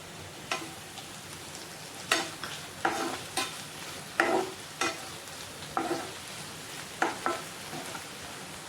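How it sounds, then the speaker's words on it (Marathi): Vegetables and tomato sautéing in a pan for vermicelli upma: a steady low sizzle with repeated sharp scraping strokes of a spoon against the pan every half second or so, close and moderately loud, no talking. "आपण इथं दोन्ही भाज्या छान अशा परतून घेतलेल्या आहेत आपण आता याच्यामध्ये टाकूया टोमॅटो"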